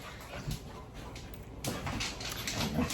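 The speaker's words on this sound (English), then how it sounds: "you can probably hear them in the background and it's annoying" Faint whimpers and yips from fighting puppies rise and fall in the background against a steady hiss, with a louder scuffle of little yelps near the end.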